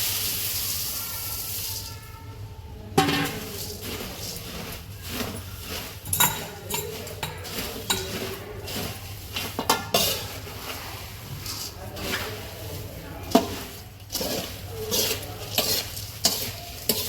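Puffed rice (mamra) stirred and roasted in a pan for garlic sev mamra, a steady scraping and rustling with soft sizzle at close range, and faint speech early on.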